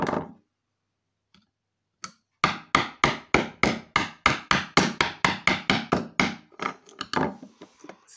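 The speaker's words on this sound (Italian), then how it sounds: "Se lo martellate però." A hammer strikes a plastic Huawei phone repeatedly, a few isolated knocks followed by a fast, even run of about twenty sharp, loud blows close by.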